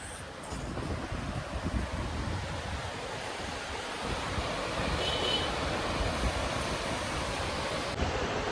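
Sea waves wash steadily onto a beach in a continuous broad roar. Gusts of wind buffet the microphone over it, with no clear breaks between the waves.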